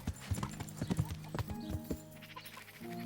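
Hooves of a horse in the medieval game Kingdom Come: Deliverance clop in a quick, uneven run of close beats over low game music, then ease off into a softer stretch near the end.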